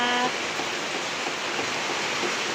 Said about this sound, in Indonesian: hujan angin ya Allah